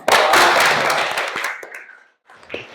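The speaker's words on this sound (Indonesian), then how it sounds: "Tepuk tangan." A classroom of students applauds together, a dense burst of hand claps that is loud and close, then fades out over about two seconds, followed by a few scattered claps and taps.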